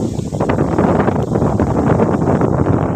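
Loud, steady wind roars across the microphone with dense low rumble and gusty flutter throughout, during a rainstorm under dark clouds over wheat fields.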